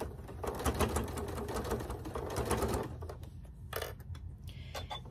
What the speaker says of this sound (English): I'm gonna drop everything down and I'm going to start sewing.